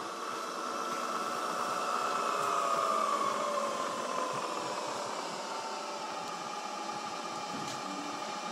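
A Bridgeport EZ Trak three-axis CNC milling machine runs in low gear, giving a steady mechanical whir with faint shifting whine tones that stays even and close, with no talking.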